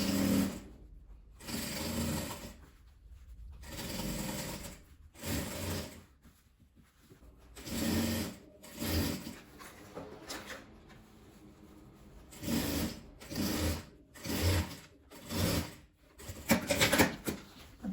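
Sewing machine stitching bias binding onto an apron made from old denim jeans, running in short repeated bursts with brief pauses between them, close and fairly quiet.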